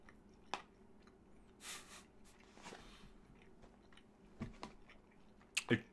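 Someone chewing garlic-flavoured craft jerky biltong: soft, close, irregular chewing and biting with a few sharper crunchy clicks, quiet overall with no talking.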